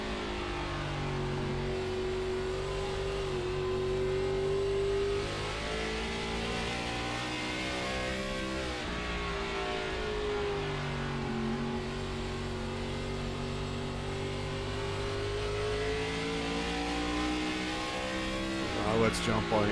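Race cars at Nashville Fairgrounds roar and rev continuously around the track, with engine pitch rising and falling through the corners and a brief tire squeal near the end, all under steady race commentary.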